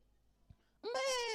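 A person mimics the bleat of a threatened goat: a short, quiet lead-in, then an abrupt, loud, quavering bleat that carries through the final half second.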